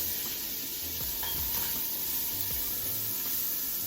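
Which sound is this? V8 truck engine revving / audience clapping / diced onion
diced onion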